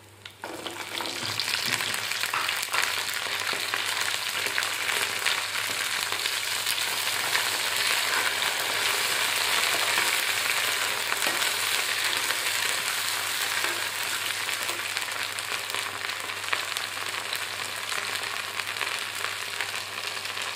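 Coriander seeds and green chillies fry in hot oil in an Andhra-style kitchen, with a continuous close sizzle and occasional stirring scrapes. The sound holds steady and loud with no talk.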